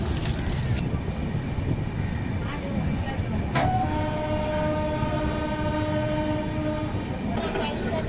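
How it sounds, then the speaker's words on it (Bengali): A train departing Khurda Road Junction rumbles along with wheels clattering, and a long horn blast rings out partway through, sustained over steady rolling noise. "ট্রেন এই মুহূর্তে খুদ্রা রোড জংশন থেকে ছেড়ে যাচ্ছে"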